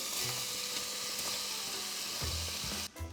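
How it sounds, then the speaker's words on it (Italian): Carrot and celery sizzling in a pan with onion, a steady loud crackling fry holding throughout, with a few knocks of stirring near the end. "Carota e sedano a sfrigolare un pochino."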